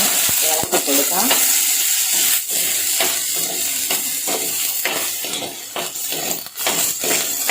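Sliced onions and green chilies sizzling and frying in hot oil in a pan while a spoon stirs them, the steady crackling hiss broken by repeated scraping knocks against the metal.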